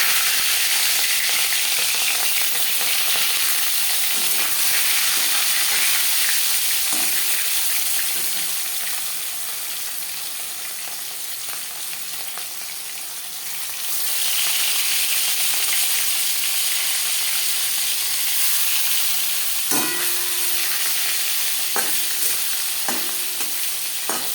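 Marinated rui fish frying in five spoons of hot refined oil, a loud continuous sizzle and crackle that dips briefly midway then swells again, with a few clinks and scraping touches near the end.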